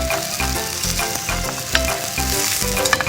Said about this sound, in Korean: 가자미 위에 살살 뿌려주십니다.